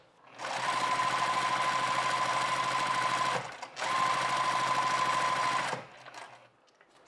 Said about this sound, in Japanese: まず7ミリを返し縫いをして縫います。